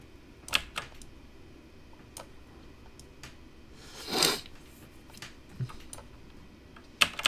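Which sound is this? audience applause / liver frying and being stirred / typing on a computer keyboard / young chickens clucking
typing on a computer keyboard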